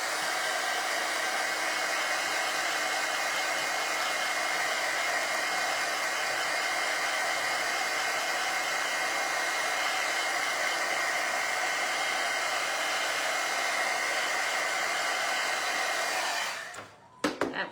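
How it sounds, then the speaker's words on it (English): A heat gun blows steadily on painted wood to dry it, a loud, even, close whooshing roar that runs unbroken for most of the stretch and then cuts off near the end. "I'm going to give that a dry with the heat gun before I place the stencil back over"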